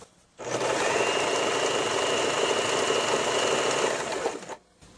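A Swiss Elna 2600/2800 sewing machine runs steadily with its foot pedal pressed, giving a loud, even mechanical whir that lasts about four seconds before stopping, with no talk over it.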